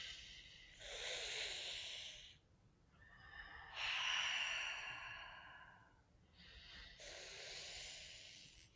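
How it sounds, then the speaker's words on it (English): Breathwork exercise of slow breathing in and out through the teeth, close and hissy, with three long airy breaths separated by short quiet pauses. "So the version of it for those who can't curl your tongues is through your teeth,"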